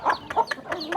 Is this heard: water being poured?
no